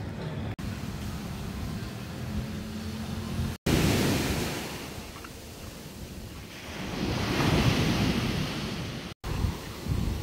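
Waves wash onto Coral Beach on Pangkor Island, Malaysia, a broad close surf rumble that swells and eases over a few seconds, with wind buffeting the microphone.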